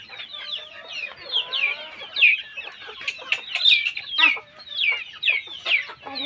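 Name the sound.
native Bengali chickens clucking on a farm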